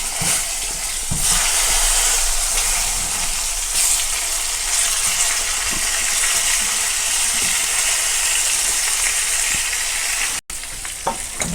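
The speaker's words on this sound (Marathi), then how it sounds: "आता परतून घ्यायची अशी वांगी" Eggplant with turmeric, garam masala and coriander being stir-fried in a pan, with a loud continuous sizzle and scraping stirs throughout, briefly cut near the end.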